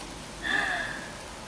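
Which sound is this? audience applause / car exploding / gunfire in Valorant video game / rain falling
rain falling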